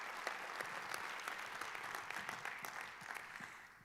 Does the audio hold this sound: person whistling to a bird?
no